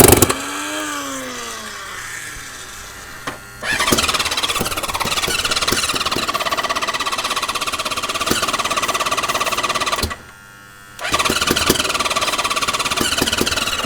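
An old four-cylinder Japanese car engine, a barn find, cranks and starts, then runs with a rough, rattling idle, cutting out briefly before catching and running again, loud and close.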